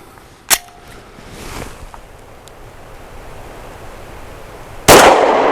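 Two sharp pistol shots from a BUL Armory Axe FS Cleaver firing Federal Personal Defense Punch 124 grain ammunition ring out outdoors, one early and one near the end, loud and separated by a stretch of quiet ambient wind.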